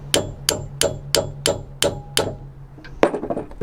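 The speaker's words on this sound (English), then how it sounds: "Might need a hammer." A hammer knocks a rubber seal onto the lip of a campervan's bodywork: seven evenly spaced close, sharp blows, then a brief pause and a final heavier hit with a clatter and ringing, with no talking.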